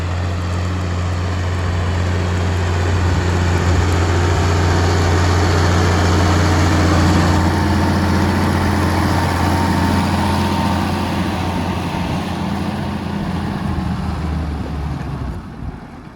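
A steady, loud low engine drone from an MTZ 1221 tractor plowing, with a deep rumbling hum, running continuously with wind-like noise over it and no voices.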